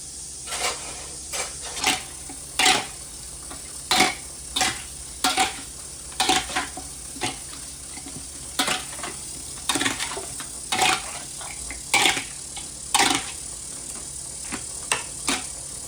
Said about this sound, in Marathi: याला चांगलं मिक्स करून घ्यायचं.